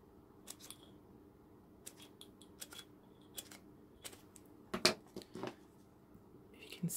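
Scissors snip quietly through paper cut for decoupaged recycled jars, a run of short, crisp cuts in an irregular rhythm, close and soft, with a few louder snips toward the middle and no talking.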